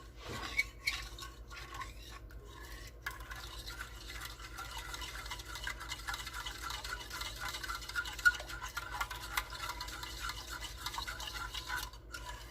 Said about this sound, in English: so I'm stirring the Jello